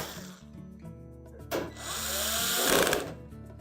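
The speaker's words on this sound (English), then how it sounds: "put in the rest of the retaining screws" A power driver runs retaining screws into the main top of a Frigidaire range, with short whirring bursts and a longer rising drive near the end, fairly quiet and close.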